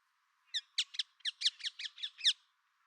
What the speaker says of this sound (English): These birds are also known for their loud and repetitive vocalizations.